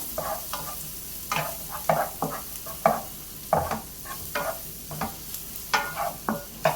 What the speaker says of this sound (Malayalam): ഇതിനെ ഇളക്കി ഉള്ളി ഒന്ന് വഴറ്റിയെടുക്കാം